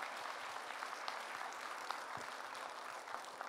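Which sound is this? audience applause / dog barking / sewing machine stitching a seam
audience applause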